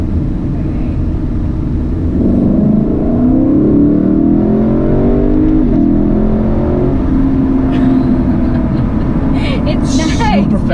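A 2018 Lexus LC500 with a 10-speed transmission accelerates hard, its loud engine drone swelling and climbing in pitch through quick shifts, heard steadily from inside the cabin while people talk over it.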